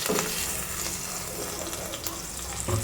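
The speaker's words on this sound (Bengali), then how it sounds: "দিয়ে দিলাম তিনটে চেরা কাঁচা লঙ্কা আর থেতো করে রাখা রসুন এরপর এগুলোকে ভাজতে থাকবো" Green chillies and crushed garlic fry in a pan with a steady, close hiss and faint crackle that runs throughout, mixed with light watery clatter and soft kitchen knocks.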